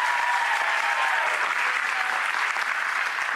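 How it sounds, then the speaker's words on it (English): Studio audience applause at a dollar-store ugly Christmas sweater showdown, a dense steady wash of clapping filling the whole stretch without a break. "So, audience, Genevieve Gorder, round of applause"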